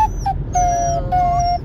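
A puppy whines in a series of high, thin drawn-out whimpers, three longer cries rising and falling over a steady low background rumble, close by and alone without talk.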